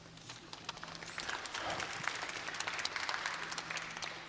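An audience at a tourism forum claps in a dense, sustained burst of applause, fairly close and even in loudness throughout.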